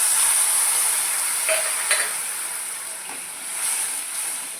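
Bhola fish frying in oil in a pan with green chillies, a steady close hiss and sizzle with a few faint utensil ticks, no voices.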